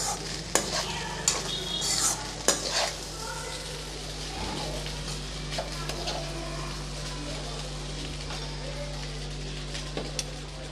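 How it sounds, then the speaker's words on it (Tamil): A spoon stirs egg rice around a hot pan, giving scattered scraping strokes over a soft, steady sizzle, fairly close and moderately quiet. "இப்போ நல்லா கலந்து விட்டுறலாம்."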